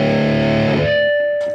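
A distorted, overdriven electric guitar tone from the drive effect of a Zoom G6 multi-effects pedal rings out loud, then decays into a sustained buzzing note before a brief noisy burst at the end.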